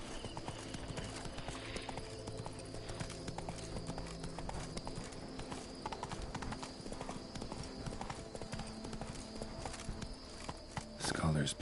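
Roach, the horse in The Witcher 3, runs with steady rhythmic hoofbeats, a continuous close clip-clop that persists across the whole stretch, with a louder burst near the end.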